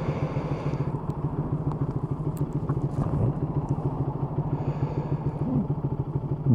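A Loncin 125 motorcycle engine idles steadily at around 1700 rpm on a cold morning, a close, even low throb with light mechanical clatter running unbroken throughout.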